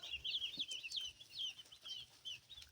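White broiler chicks on their first day in a brooding house chirp faintly in scattered high peeps, with soft low rustling in the quiet background.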